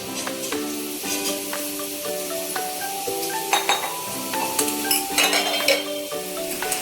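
Ridge gourd pieces go into a hot pan and are stirred, bringing a sizzle with utensil scrapes and clinks against the pan, close up, while a steady melodic tone plays in the background.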